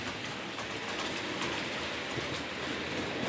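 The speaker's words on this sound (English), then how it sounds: "This other locomotive is a Bachmann Standard 5" A Bachmann Standard 5 model train locomotive runs on track, giving a steady, even rumble and whirr that fills the whole stretch without pause.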